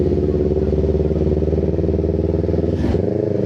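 A Kawasaki Z400 motorcycle engine drones loud and steady up close during a road ride, with a continuous harmonic hum and a brief whooshing swell near the end.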